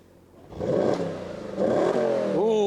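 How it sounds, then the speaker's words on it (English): Audi RS5 B8.5 V8 engine revving hard in dynamic mode, two loud rising surges of engine roar close by, ending in a sharp climbing whine as revs build. "put it in dynamic mode and let's see if that makes a difference."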